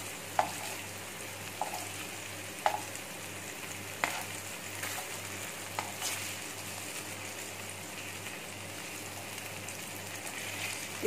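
Chicken tikka pieces sizzle and fry steadily in a pan, with a constant crackling hiss and a few sharper pops and clinks scattered through, and no talking.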